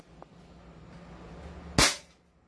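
A 2011 Hi-Capa airsoft pistol fires a single sharp, close crack that rings out briefly over quiet room tone.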